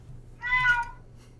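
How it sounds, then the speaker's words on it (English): A cat gives a single short, whining meow that rises and falls over about half a second, close by and fairly quiet, against a low steady hum with no talking. "I got a cat. He's gonna be a little bit whining for a little bit."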